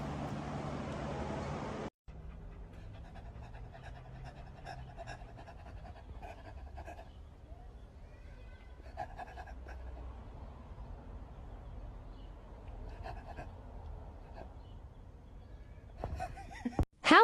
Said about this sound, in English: It's a lot of doggos.